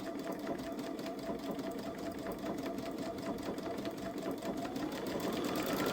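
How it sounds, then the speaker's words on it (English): A Babylock Solaris 3 sewing machine stitches out the last part of a darning pass made with the buttonhole foot, a close, steady rapid whir that holds evenly throughout with no talking. "I'll let it stitch this last part out"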